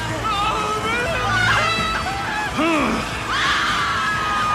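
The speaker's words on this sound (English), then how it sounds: "Scream louder." Film scene from a sci-fi action movie with a loud, sustained mix of screams, yells and crowd babble, with piercing vocal cries rising and falling over a dense background.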